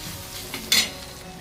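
Bombay duck chutney (bombil thecha) being stirred in a hot pan after coriander is added, a steady soft sizzle with one sharp scrape of the spoon partway through, close up.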